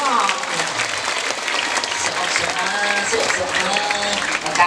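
A crowd claps steadily throughout at a Balinese bondres comedy performance, a dense wash of applause with voices mixed in, fairly loud and close.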